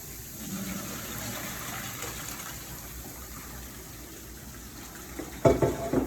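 Water gushes steadily as it is drained off cooked pappardelle pasta, ending with a few loud clattering knocks from a pot.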